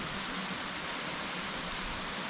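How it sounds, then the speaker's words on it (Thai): A waterfall more than 80 metres high, in forest beside a cliff, gives a steady, dense roar of falling water that holds evenly throughout with no voices over it. "โอ้น้ำตกสูงมากดูดิ"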